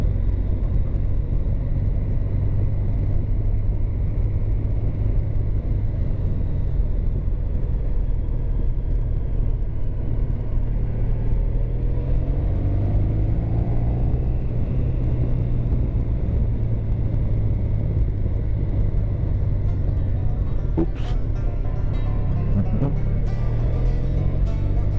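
A car drives downhill through curves on the way to the Danzturm in Iserlohn, heard as a steady low engine and road rumble from inside the car, with a brief sharp click near the end.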